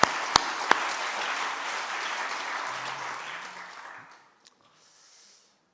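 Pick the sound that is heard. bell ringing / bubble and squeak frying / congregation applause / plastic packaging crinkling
congregation applause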